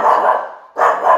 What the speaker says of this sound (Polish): Mam nadzieję, że Iwanek przez chwilę przestanie szczekać